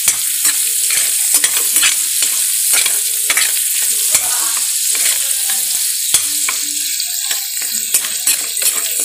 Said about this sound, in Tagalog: habang ginigisa natin yung pork, giniling